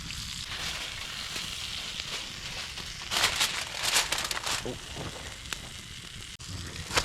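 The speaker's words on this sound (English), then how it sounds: "We have one right here in the coals cooking." Steak wrapped in foil roasting in campfire coals gives a steady close sizzle and crackle throughout, busier and louder in the middle stretch, with light rustling and no talk.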